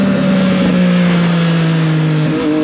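A Triumph Street Triple 765 RS motorcycle engine runs loud and close with a strong, buzzing, tonal drone that sags slightly in pitch, then lifts again near the end, with no talk over it.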